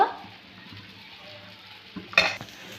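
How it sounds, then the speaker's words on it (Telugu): Moong dal and sago dosa batter cooks on a hot pan, giving a steady soft sizzle throughout with a brief louder scrape or clatter near the end. "మరొక దోశ అయితే వేసుకుందామండి క్రిస్పీగా టేస్టీగా ఉండే పెసలతో చేసిన పెసలు సగ్గుబియ్యంతో చేసిన దోశ"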